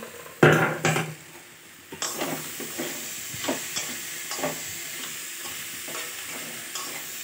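Food cooks over low heat in a pan as the lid is lifted with a clank and a spatula scrapes and stirs repeatedly, soft sizzling hissing underneath the intermittent scraping strokes.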